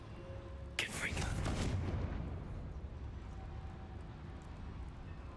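Confringo blasting spell cast in Hogwarts Legacy, a sudden loud explosive burst followed by a rumbling boom that slowly fades, with a game voice underneath.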